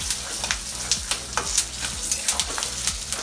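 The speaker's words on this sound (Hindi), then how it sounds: "इसको मैं अच्छी तरह से फ्राई कर लूँगी।" An evening snack fries in a pan with a close, busy sizzle, broken by a regular series of soft scraping strokes as it is turned and stirred, with no talking.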